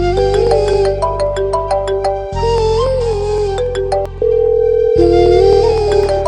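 A mobile phone ringtone plays loudly and steadily, a repeating electronic melody over a sustained tone, cycling on without any talk.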